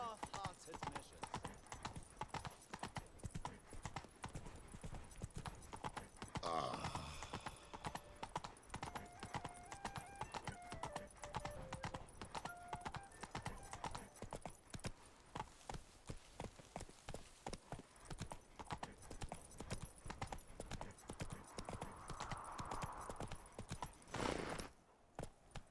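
A horse gallops in The Witcher 3: Blood and Wine, a fast, relentless drum of close hoofbeats all the way through, with a brief whinny and voices talking over the ride.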